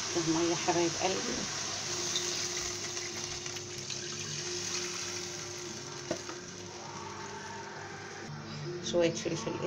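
Water pours into a hot pot of meat and onion, making a steady, rushing sizzle close by. A person talks over it at the start and end.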